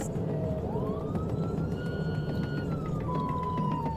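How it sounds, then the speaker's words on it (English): A police siren wails during a high-speed motorcycle chase in Georgia, rising then falling in pitch, somewhat distant over a steady rumble of engine and road noise. "He hit the lights and siren"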